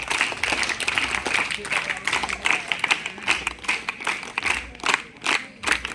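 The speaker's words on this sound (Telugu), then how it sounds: "ఒకసారి మనము చప్పట్లతో గట్టిగా ధన్యవాదాలు చెప్పాలి" A school audience gives a round of applause to thank the people who delivered books: a burst of clapping from many hands, with voices mixed in throughout.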